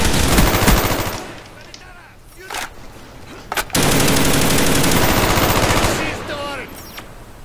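Dense automatic gunfire from the Call of Duty Black Ops multiplayer match, loud and sustained at first, easing into a brief lull with a few isolated shots, then heavy continuous firing again.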